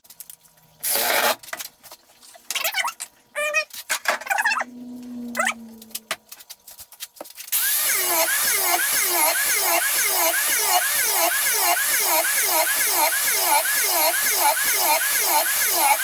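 A homemade blade sharpener grinds a blade against a dull flap disc, giving a loud, continuous high whine with a cycling rasp. It follows several seconds of scattered knocks and handling noises.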